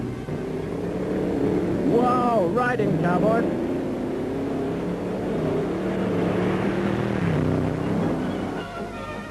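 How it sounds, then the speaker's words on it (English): Two Allard racing cars climb toward a hill-climb summit, engines droning and revving in changing pitch from mid-distance, loud and continuous, while a voice speaks over the roar. "Just watch these 2 Allards roaring up to the summit."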